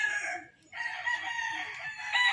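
A Kelso gamecock rooster crows loudly close by, a long strained call broken by a short pause, then continuing with a harsh drawn-out finish.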